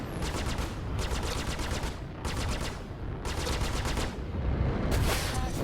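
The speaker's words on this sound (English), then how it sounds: "That was a good, patient rocket pod blast." Rocket pod blasts from a spacecraft in the space combat game Star Citizen, fighting a Vanduul swarm: four rapid rattling volleys of launches over a constant engine roar, loud and close, with no talking.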